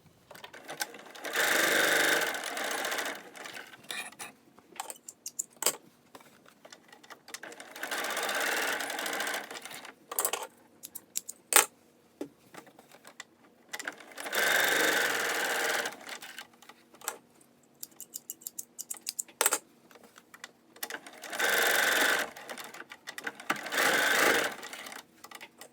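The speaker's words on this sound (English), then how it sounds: "Now I'm going to stitch the darts on both pieces." A sewing machine stitches darts into the pieces of a fabric face mask, running in several distinct bursts of rapid whirring with short pauses between, close and clear with no talking.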